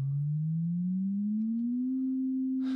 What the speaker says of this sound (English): If I was to increase the frequency of this sine wave, so like before, I'll raise it by an octave.